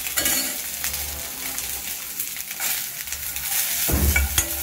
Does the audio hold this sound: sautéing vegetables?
yes